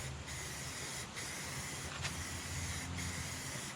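Rust-Oleum gloss red spray paint hissing from an aerosol can onto a Craftsman LT2000 lawn tractor, a steady close hiss broken by several short pauses between sweeping passes.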